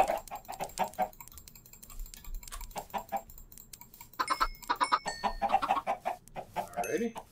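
Chickens in the video game Minecraft cluck repeatedly in short, bright bursts, mixed with quick clicking sounds, with the clucks growing busier and louder in the second half.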